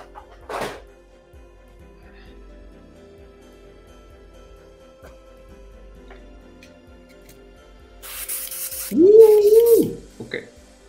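Airbrush spraying water-based Vallejo chipping medium onto a model aircraft, heard as two short hissing bursts near the end after a long quiet stretch, with a brief vocal exclamation overlapping the spray.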